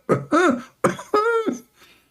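A man imitates a woman coughing with his own voice, giving three or four short, throaty vocal bursts in quick succession, the middle ones drawn out and strained, fading into quiet at the end.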